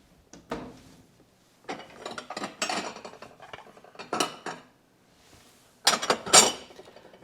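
Dishes and cutlery clatter in a home kitchen as a plate is set down on the counter, with scattered clinks and knocks, moderately close, several short bursts and pauses, no talking.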